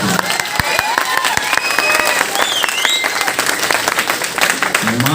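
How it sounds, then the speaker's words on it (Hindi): An open mic event audience claps in loud, dense, sustained applause with some cheering, while whistle-like tones and voices rise and fall over it. "तालियां बहुत कम हैं विषय के हिसाब से।"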